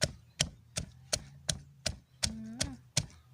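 Papaya salad with apple snails pounded in a mortar, a steady series of about ten hollow, knocking thuds at an even, brisk rhythm, close and fairly quiet.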